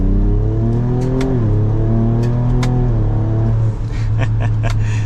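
A 2024 Ford Ranger Raptor's EcoBoost engine pulls hard while driving off-road, a loud, close, steady engine drone with rising and shifting tones across a gear change, continuous throughout.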